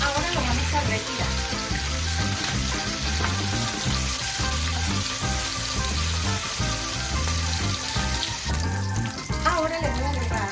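Meat searing in a paella pan, a steady loud sizzle and hiss that runs without pause, with faint rhythmic clatter underneath.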